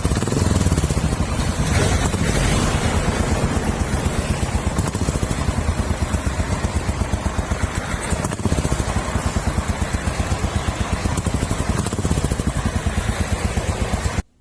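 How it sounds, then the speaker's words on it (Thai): A 2017 Royal Enfield Classic 500 single-cylinder motorcycle engine runs steadily up close, a loud, even thumping idle that carries on unbroken and then cuts off abruptly at the end. "เสียงเครื่องแน่น ๆเลยนะครับ"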